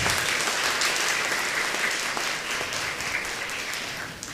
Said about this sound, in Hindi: तो एक बार फादर ब्रिटो के लिए जोर से ताली बजाइएगा।